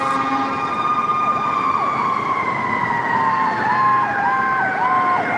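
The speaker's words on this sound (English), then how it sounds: "Here comes a fire truck." A fire truck siren wails steadily close by, its rising and falling tone sweeping throughout with no talk over it.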